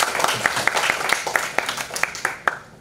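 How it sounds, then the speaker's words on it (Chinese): An audience at a maker meetup night applauding to welcome a speaker onto the stage, a moderate patter of individual claps with distinct sharp hits, fairly close and without speech. "我们掌声欢迎哈爸。"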